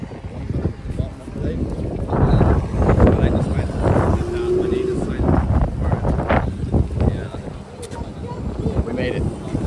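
Strong wind buffets the microphone outdoors on a holiday in Bulgaria, a broad continuous low roar with gusts swelling and easing throughout, while people talk briefly over it.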